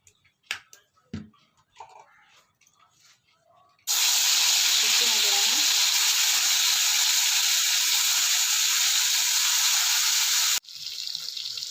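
Chicken frying in hot coconut oil in a pan. A few seconds of voices and light clatter give way to a loud, continuous sizzle lasting about seven seconds, which then cuts to a quieter sizzle.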